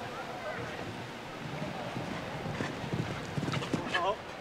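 Hooves of a small horse clip-clop on the course at a show jumping grand prix, a few irregular hoof beats mixed with wind noise and under an announcer's continuous commentary.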